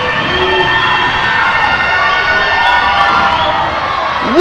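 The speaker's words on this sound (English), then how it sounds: "Listen to this crowd." Spectators at a women's volleyball match cheer and shout loudly and steadily, with high-pitched yells over a sustained roar and a sharp whoop at the very end.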